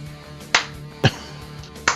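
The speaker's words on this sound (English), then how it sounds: "we got to slow clap it out" Sports fans at a Seahawks fan show clap slowly: three sharp, isolated claps spaced about half a second apart, close and clear over a low steady hum.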